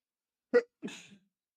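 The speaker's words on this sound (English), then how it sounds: "I have to sneeze." A single close, sharp sneeze in two quick parts, a short intake followed by a breathy burst, in an otherwise silent room.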